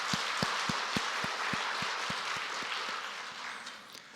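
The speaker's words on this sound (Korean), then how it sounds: "우리 하나님께 영광의 박수를 올리겠습니다" A church congregation at Sunday worship applauds, a dense wash of many hands with steady rhythmic clapping beating through it, gradually fading toward the end.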